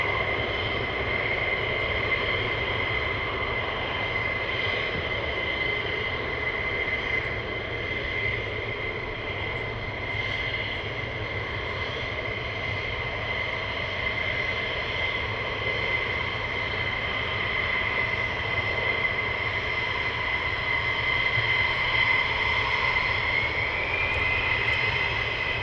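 Military jets, F-35s and F-15s, run at RAF Lakenheath with a continuous loud engine roar and high whine that holds steady for the whole stretch, as if taxiing or holding nearby.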